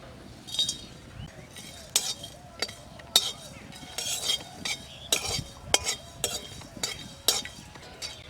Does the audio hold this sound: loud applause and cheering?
no